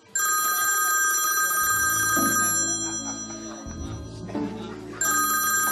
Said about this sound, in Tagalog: Ay, kunin ko lang po. Telepono ko po yun.